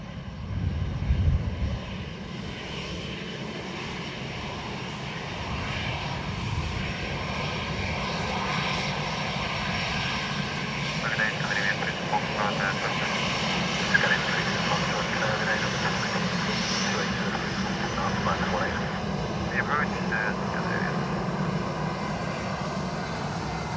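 An Airbus A321XLR arriving at Dublin Airport from Heathrow, with a sustained jet engine rumble and whine at moderate distance, mixed with faint radio chatter and voices.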